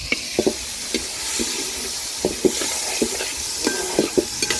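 Onions and tomatoes sauté in a pan while a spoon stirs them, giving a soft continuous sizzle broken by scattered scraping knocks, with no talk.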